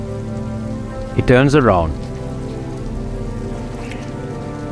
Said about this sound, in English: wait, it's raining.